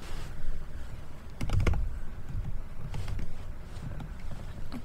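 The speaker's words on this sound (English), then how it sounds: "I'm gonna use my computer. So I'm gonna put this here and just type the little link." Fingers type on a computer keyboard at a desk, entering a web link as a steady patter of clicks with a short, louder flurry of keystrokes midway. The sound is close and clear, with no voices.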